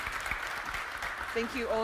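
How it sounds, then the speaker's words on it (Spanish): An audience claps for panel guests at the close of a conference session, a moderate wash of applause that thins out as a voice begins speaking near the end. "Y gracias a nuestro grupo, a nuestros invitados, démosles un aplauso."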